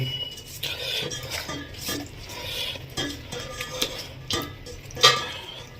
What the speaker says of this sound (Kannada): ಸೊ ಇವಾಗ ಇದನ್ನು ಕಲಸಿ ಮ್ಯಾರಿನೇಟ್ ಮಾಡಿ